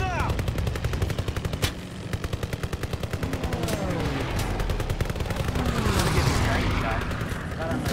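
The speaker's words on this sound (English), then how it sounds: "Oh, someone's shooting me." Rapid, sustained automatic gunfire in the Call of Duty WWII video game, a dense rattling stream of shots with louder bursts, heard alongside voices talking.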